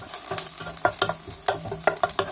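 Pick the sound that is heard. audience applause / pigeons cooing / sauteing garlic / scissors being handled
sauteing garlic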